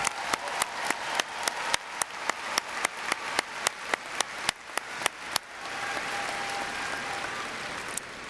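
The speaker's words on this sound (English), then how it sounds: "Let's give a big round of applause to those folks." A graduation ceremony audience applauds in a large hall. A few distinct, evenly spaced claps come first, then they blend into a softer, sustained wash of clapping from many hands at a distance.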